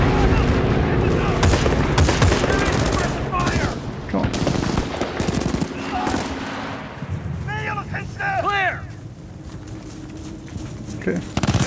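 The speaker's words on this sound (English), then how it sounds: "I'm in the middle of this crossfire" Rapid gunfire and bursts from assault rifles fill a Battlefield Bad Company 2 firefight, dense and loud throughout, with voices talking over the shooting.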